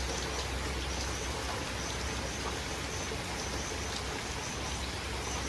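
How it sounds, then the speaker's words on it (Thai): Heavy rain falls steadily on potted vegetable plants during a downpour, a dense, even, continuous hiss of large drops with no pauses and no voices. "ฝนตกหนักครั้งนี้ก็ตกเหมือนกันตกแรงมาก"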